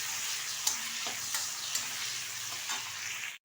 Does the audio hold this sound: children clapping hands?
no